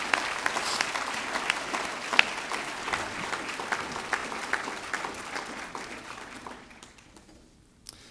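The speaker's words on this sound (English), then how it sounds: "Let's give these outstanding young officers a big round of applause" Banquet audience applauding young officers from the 48th Infantry Brigade at an awards dinner, a steady dense clatter of many hands that thins and fades out near the end.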